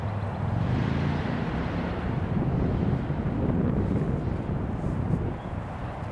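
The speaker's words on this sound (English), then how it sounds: "my candles went out, wind blowing real heavy" Heavy wind blows steadily outdoors, a loud, continuous low rumble of gusts buffeting the microphone throughout, with no voices.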